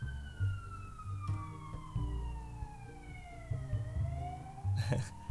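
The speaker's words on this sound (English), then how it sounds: "I don't know if you can hear that siren that's going past" A siren in a Cities: Skylines city-building game wails in the distance with a slowly falling then rising pitch, heard over low rumbling traffic noise and a few brief clatters.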